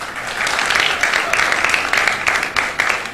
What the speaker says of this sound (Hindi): अब आप बजाएं तालियां